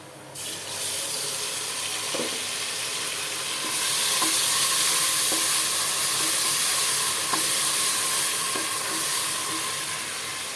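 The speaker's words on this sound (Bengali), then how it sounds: "এখন প্রথমে দিব 2 চামচ রসুন বাটা এবং 1 চামচ আদা বাটা" Garlic and ginger paste sizzling among browned onions in a pot for tehari, a steady close hiss that swells louder partway through, with faint stirring clicks and no talk.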